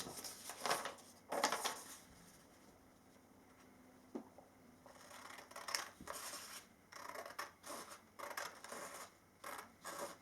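Scissors snipping through a sheet of origami paper to remove a rectangular strip while folding a dove, heard as several close, crisp cutting bursts with short pauses between them.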